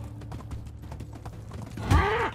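Horse sounds in the video game Medieval Dynasty: a run of light, rhythmic hoof clops with creaks, ending in a loud, sudden whinny or strained cry from the horse.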